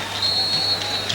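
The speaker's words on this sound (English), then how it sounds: "that sounds like a long blast on the whistle" A referee's whistle at a 1992 African Cup of Nations football match between Ghana and Zambia in Ziguinchor gives a sustained shrill blast, with a few shorter peeps, over a low stadium crowd murmur.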